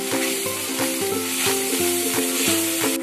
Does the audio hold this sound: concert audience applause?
no